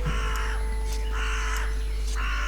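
Crows cawing over a cemetery in The Guild 3 video game, three harsh caw bursts spaced roughly evenly over a steady hum of game ambience.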